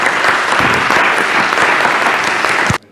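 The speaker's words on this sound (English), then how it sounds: "Join me in an applaud to this excellent" Dense, loud applause from a symposium audience, sustained and even throughout, then cut off abruptly at the end.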